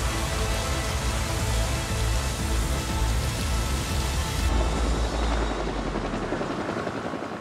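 A firefighting helicopter flies over a wildfire, its dense, broadband rotor and engine roar constant and fairly loud throughout, shifting slightly in tone midway as it passes.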